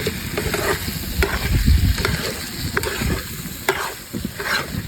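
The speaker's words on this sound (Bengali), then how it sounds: "আবার নেড়ে নিচ্ছি।" Chicken with black cumin fries in a pan while it is stirred continuously. A dense, loud sizzle runs throughout, with rough scraping and thumping stir strokes close up and no talking.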